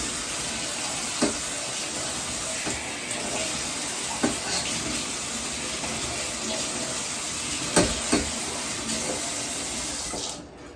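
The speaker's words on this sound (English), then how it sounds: "I'm going to rinse it off under the top water." Sprouts rinsed under a running kitchen tap, a steady broadband rush of water hitting the sprouts and tray with a few brief clatters, close and continuous until it stops at the end.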